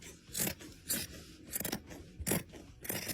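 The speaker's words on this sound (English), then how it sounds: "Now I'm just going to trim away some of this interlining" Scissors snipping through curtain interlining, a close, crisp series of about six cuts in an uneven rhythm, with nothing else in the background.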